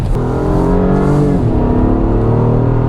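A 2022 Acura MDX Type S performance luxury SUV accelerating hard, its engine note rising in a steady, loud, continuous roar heard from inside the cabin with a brief shift near the middle, no talking over it.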